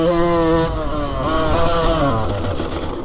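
A 31-year-old 125cc two-stroke motocross bike engine revs hard and close, a loud buzzing whine that climbs, dips slightly and holds steady for about three seconds without pause.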